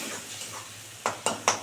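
Spice paste for a tengra fish curry with black mustard seeds frying in oil, with a soft sizzle and then three sharp scraping knocks of a spoon against the pan near the end.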